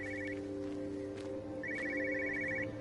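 Telephone ringing inside the video game Everybody's Gone to the Rapture, two bursts of rapid electronic trilling separated by a pause, heard at moderate distance over a low ambient hum.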